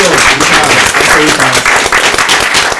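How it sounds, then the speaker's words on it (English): Loud, sustained applause from a crowd, dense clapping filling the whole stretch with a few cheers mixed in. "give a round of applause for J Slow."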